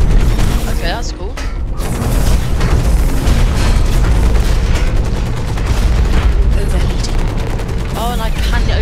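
A mech's weapon fires in the game Hawken, a dense rapid barrage of gunfire and booms running loud and steady throughout, with a voice talking over it.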